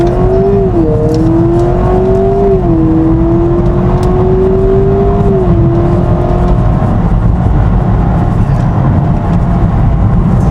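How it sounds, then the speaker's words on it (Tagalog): A 2026 Honda Prelude hybrid accelerates at full throttle, giving a loud, steady engine drone with a rising whine that holds throughout, with no talking. "do a quick drag with the Civic, full throttle all the way to the beat"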